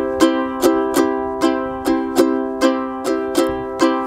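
Ukulele strummed alone in a 3-3-2 rhythm, with a bright chord struck in sharp repeated strokes grouped in uneven threes and twos, close and clear with no talk.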